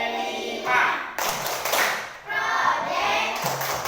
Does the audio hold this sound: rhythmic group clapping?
yes